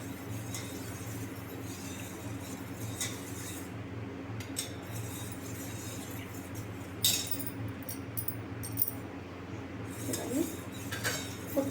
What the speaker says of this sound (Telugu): 2 స్పూన్స్ యాడ్ చేసుకొని ఈ విధంగా అంతా కలుపుకోవాలి పాలలో కలిసేటట్టు